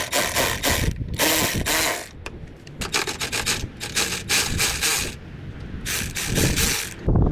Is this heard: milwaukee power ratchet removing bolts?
yes